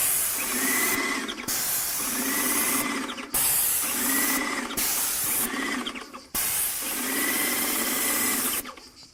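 An airless paint spray gun coats a metal gate in long, loud hissing passes, with four bursts each ending in an abrupt cutoff and short pauses between them.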